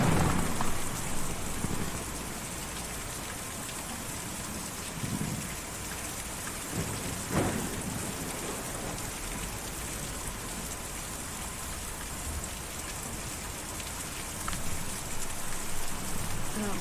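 Steady rain in the Kentucky Route Zero video game, a continuous close hiss of falling water with occasional soft thuds, no talk.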